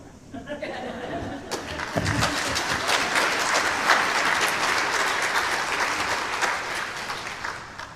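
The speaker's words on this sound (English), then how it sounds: "What a cheap way to get applause." Audience applause breaking out after a religious testimony talk, a dense wash of clapping that swells after a quiet start and holds steady, with faint chuckles mixed in.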